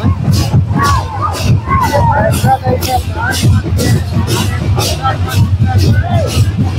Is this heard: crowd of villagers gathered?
yes